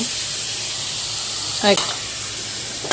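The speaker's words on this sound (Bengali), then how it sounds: "মশলা দিয়ে কষিয়ে নিচ্ছি এটা রান্না করার জন্য" Spice paste fries and is stirred in a pan for a bean-seed and aubergine curry, a loud steady sizzle broken by a couple of quick scraping strokes near the end.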